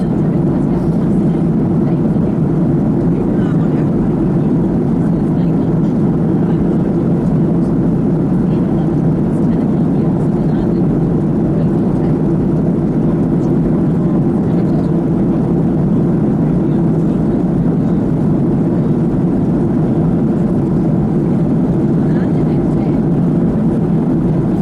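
Steady, loud airplane cabin drone with a constant low engine rumble throughout a passenger flight to Rhodes, Greece, unbroken and without change.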